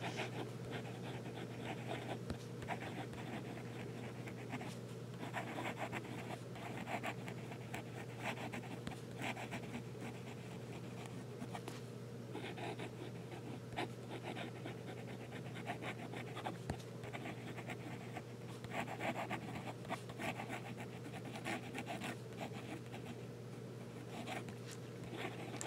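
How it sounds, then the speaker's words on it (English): A pen writing upside down on paper keeps up a steady, soft scratching, with small irregular strokes and taps running continuously and close by, with no talk. "this pen writes incredibly well with no problems upside down"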